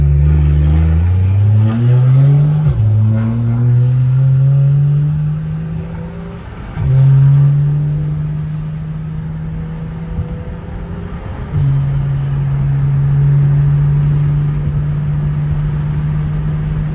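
A single-turbo BMW 335is pulls hard in fourth gear, the engine note climbing steadily in a loud, close drone, dropping briefly at shifts and rising again, with no talking over it.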